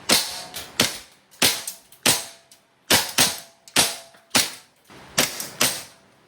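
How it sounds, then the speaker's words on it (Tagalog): An E&C Glock 17 Gen 3 Combat Master gas blowback airsoft pistol fires about a dozen sharp, loud shots at close range. They come in quick, uneven bursts with short pauses between them, and no one talks. "Gas blowback Airsoft Pistol."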